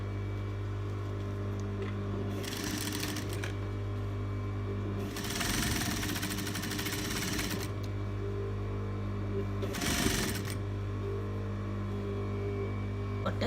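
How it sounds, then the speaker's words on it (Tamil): Sewing machine running in several short bursts, top-stitching the seams of an off-shoulder dress, a steady mechanical whir starting and stopping over a constant low hum in the room. "டாப் ஸ்டிச் போட்டுடலாம்."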